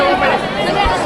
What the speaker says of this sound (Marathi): बट खूप गर्दी आहे इकडं